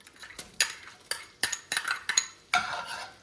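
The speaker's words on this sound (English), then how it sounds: "here goes half of a white onion that has been chopped" Chopped white onion tumbles into melted butter in a pot, then is stirred, giving a quick series of sharp scraping and clinking strokes of a utensil over a faint sizzle, close and fairly quiet.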